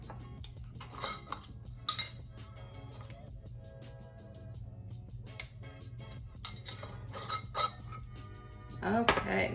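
Chicken breasts with pepper and rosemary seasoning are mixed in a bowl, giving scattered clinks and scrapes of a utensil against the dish. The sounds are close, with quieter gaps between them and a busier flurry at the end.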